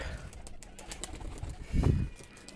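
Racing pigeons coo softly near a rooftop loft, with a low throaty coo swelling briefly near the end over faint outdoor background noise.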